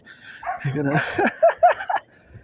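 Dogs bark in a few short, sharp bursts mixed with whimpering tones, close by and moderately loud, with a voice talking through part of it.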